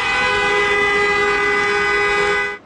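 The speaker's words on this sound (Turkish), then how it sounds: "kimi de korna çalarak tepki gösterdi" A vehicle horn blares in a queue of cars at a Thrace border customs crossing, one long, loud, steady blast held unbroken for over two seconds, then stopping sharply.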